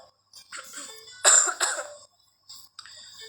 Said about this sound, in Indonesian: ini lagi batuk guys